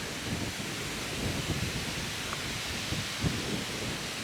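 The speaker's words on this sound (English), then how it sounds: "It's getting a bit windy." Wind blows steadily at Chirk Castle in a broad, rushing roar with gusty low buffeting, loud and continuous outdoors, no voices.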